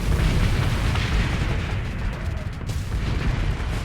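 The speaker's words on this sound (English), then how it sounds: "they're all just getting caught in each other's explosions" Ship explosions in the space combat game Starsector, playing at double speed: a dense, continuous rumble of overlapping booms and bursts that stays loud throughout, with no clear gaps between blasts.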